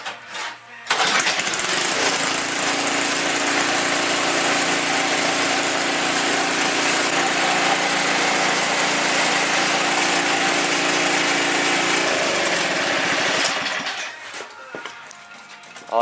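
A snow blower's small engine starts up after a drive belt tension adjustment and runs at a steady, loud, close buzzing drone for about twelve seconds before cutting off and winding down.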